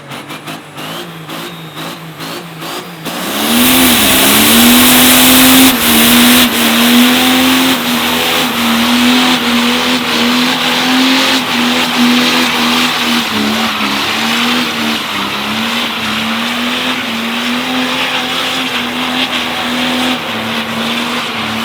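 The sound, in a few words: 1177 HP Cummins truck doing a burnout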